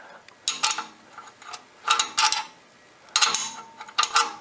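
Ratchet wrench fitted with a deep well socket loosening bolts on a Ford Contour, with several short bursts of rapid clicking separated by brief pauses, close and clear.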